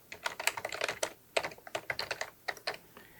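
Quick bursts of keystrokes on a computer keyboard as a title is typed, close and fairly quiet, in an uneven rhythm with short pauses, and no voices.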